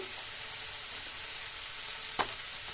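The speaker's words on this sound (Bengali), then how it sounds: "পরোটাগুলো আপাতত এখানে হয়ে আসছে এগুলো হয়ে গেলে ওকে একটু গরম গরম খেতে দেবো" Parathas fry in a pan with a steady, even sizzle and a couple of faint clicks near the end.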